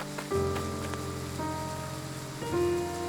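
Rain falls in the Triangle Strategy video game as a soft, steady patter beneath sustained musical chords that change twice.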